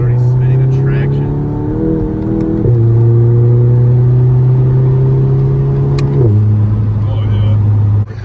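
A Volkswagen GTI with a Stage 1 tune and front-wheel drive accelerates hard on paddle shifts in sport mode, its engine droning loudly from inside the cabin, with two quick upshifts marked by sudden pitch drops and front tyres spinning for traction.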